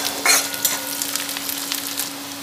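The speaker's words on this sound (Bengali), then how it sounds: "দিয়ে পেঁয়াজের সঙ্গেই খুব ভালো করে ভেজে নেব।" Chopped onion and garlic cloves fry in oil in a pan, giving a steady close sizzle with a few sharper crackling bursts near the start and no talking.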